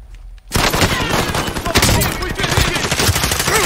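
After a brief quiet moment, heavy gunfire erupts and keeps going in the video game Warzone: loud, dense bursts of automatic fire and shots layered in a chaotic firefight.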